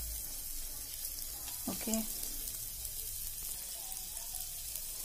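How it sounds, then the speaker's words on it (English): Soft, steady sizzling of garlic frying in butter in a pan, with a brief stirring clatter and a short spoken word near the start. "I'm going to add a lot of garlic"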